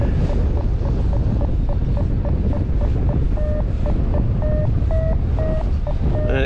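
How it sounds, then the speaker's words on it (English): Strong wind buffets the microphone high up outdoors in a loud, continuous roar, with a faint pulsing mechanical tone running beneath it. "It's quite windy up here."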